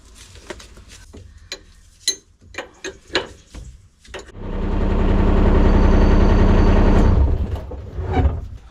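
The engine of a Chinese 2-tonne mini digger rumbles up after a series of clicks and clanks, holding a loud steady drone for a few seconds before dropping back to scattered mechanical knocks.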